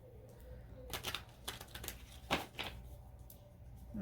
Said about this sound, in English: These cards here are having a hard time shuffling.